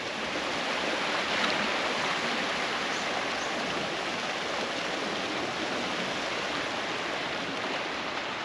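Continuous rushing sea along the Cornish coast path near Lamorna Cove, a dense even hiss of surf washing against the shore that holds steady throughout, with no talking over it.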